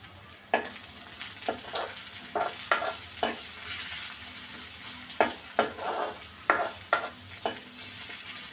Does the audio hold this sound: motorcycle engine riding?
no